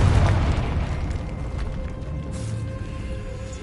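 The Confringo spell exploding in Hogwarts Legacy, a deep booming blast at the start that rolls into a long fading rumble.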